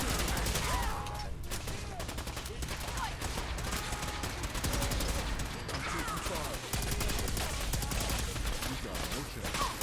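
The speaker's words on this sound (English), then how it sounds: "I'm breaking out my gun." Sustained gunfire from the Icy Hot gun in Fallout 4, a dense, continuous rattle of rapid shots running loud and close for the full stretch, with a voice speaking now and then over it.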